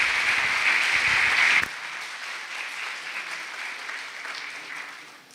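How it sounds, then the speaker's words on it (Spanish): An audience applauds to welcome a speaker at a course session on charity, dense clapping that cuts off abruptly after a second and a half, leaving a faint residual room patter. "Lo recibimos con un aplauso"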